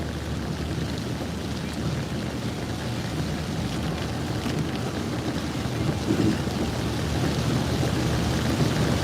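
Heavy rain falls in a dense, steady wash of noise with low rumbling underneath, continuous and fairly loud, swelling slightly toward the end with no voices.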